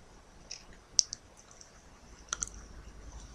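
A computer mouse clicks on a Windows PC, a few faint, close, sharp clicks, including a quick double click around the middle, over a quiet background.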